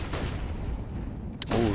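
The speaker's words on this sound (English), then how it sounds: "Oh my god, the nades have done so much damage." Grenades go off in a Counter-Strike match on the Mirage map, heard as a rumbling blast that trails off, then a sharp crack and another burst near the end, loud and close with game noise underneath.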